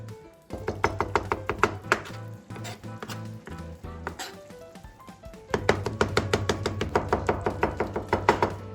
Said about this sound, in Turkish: Patlıcanları jülyen kesim şeklinde şöyle keseceğiz. Sonrasında şöyle patlıcanlarımızın boylarını ufaltacağız.